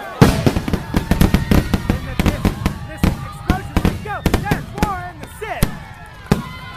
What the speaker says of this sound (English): Listen, explosions!